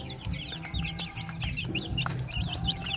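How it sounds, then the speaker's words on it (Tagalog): Young shamo aseel chickens in a lit brooder, making repeated high chirps and soft clucks that overlap in a busy, steady chatter close by, with a low hum beneath. "So ito na po yung update no sa ating mga sisiw, yung pinailawan natin"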